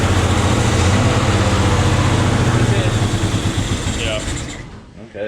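A 1962 Chevrolet Corvair van's air-cooled flat engine runs rough on only three cylinders, a steady close, loud low chugging idle that fades near the end as it stops.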